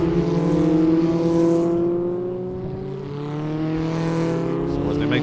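Race cars in an ICCR circuit race roar around turn 3, loud engines with steadily sliding pitch as several cars pass and fade, swelling again near the end.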